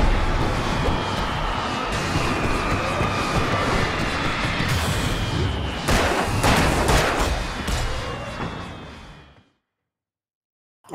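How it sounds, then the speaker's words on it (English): Crackling fireworks bursts inside the video game Deadly Premonition, a dense, continuous rattle of pops with sharper bangs clustered late on, loud and busy before cutting abruptly to silence near the end. "Lots of fireworks here."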